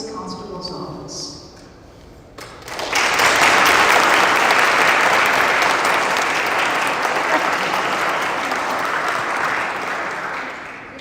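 Warm audience applause at a medal ceremony honoring a K-9 and constable from the Wood County, Texas Constable's Office, starting after a brief spoken line and swelling into loud, sustained clapping that continues steadily to the end.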